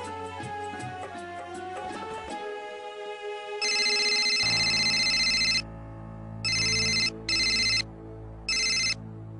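A telephone rings in repeated electronic bursts, first one long ring and then three shorter ones, loud and close, after a stretch of music with no talk.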